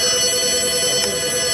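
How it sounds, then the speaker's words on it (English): A telephone rings steadily in a car repair shop, an electronic warble that holds at moderate loudness for the whole short stretch with no talk over it. "The phone's ringing."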